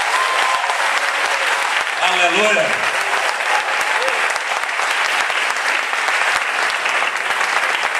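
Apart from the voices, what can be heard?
congregation applause at a church congress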